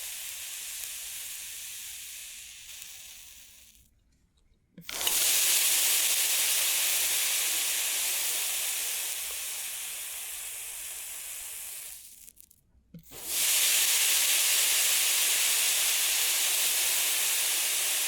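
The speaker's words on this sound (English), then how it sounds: "Let's do a few more big sizzles." Loud, close sizzling hiss plays in long continuous bursts, breaking into silence twice before surging back at full strength. It sounds like an ASMR trigger, with no voices.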